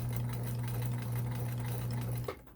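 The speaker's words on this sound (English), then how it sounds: "You plain stitch like this" A Kenmore sewing machine with a high shank presser foot runs a plain stitch, giving a close, steady motor whir with rapid needle clatter for about two seconds before stopping abruptly.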